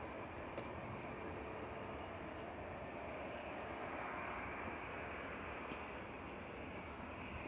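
A British Airways Airbus A321neo lands at Manchester Airport, its engine roar a steady, broad, moderately loud rumble that holds evenly throughout with no voices.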